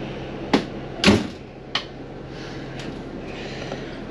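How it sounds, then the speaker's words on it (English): A door on a 2006 Itasca Ellipse 40FD Class A diesel pusher motorhome is shut, giving a few short, close knocks and a firm latch thud over quiet cabin hum. "Go ahead and close this door, save this AC."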